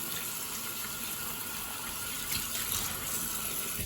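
A kitchen tap gushes steadily into a sink while small beach-caught whiting are rinsed and their guts washed out, a continuous close hiss of water, alone with no speech.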